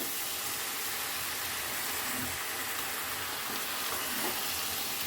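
Mixed winter vegetables frying in a pan while being stirred, a dense, steady sizzling hiss that stays loud and unbroken throughout.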